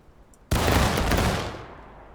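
Rifle volley fired on command in War of Rights: after a quiet moment, a loud close crash of many muskets going off almost together, followed by a rolling echo that fades over about a second and a half.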